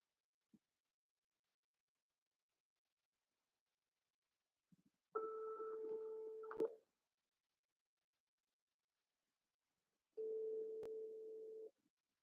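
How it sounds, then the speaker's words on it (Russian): A telephone tone sounds twice, each a steady beep of a second or more separated by silence, quiet and alone while placing a call. "Надо Аяду, наверное, позвонить"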